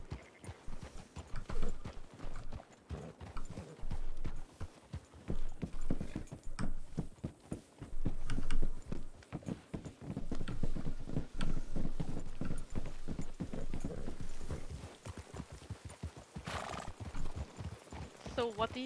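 A stallion's hooves clip-clop in a steady walking rhythm while ridden in a Wild West roleplay video game, close and fairly loud, with a brief whinny and people talking over the hoofbeats.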